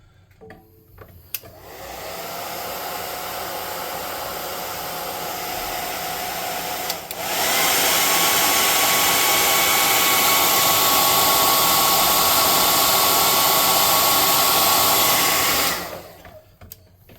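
A handheld hair dryer blows on painted pieces, a loud steady whoosh that starts, steps up to a higher setting partway through and then cuts off.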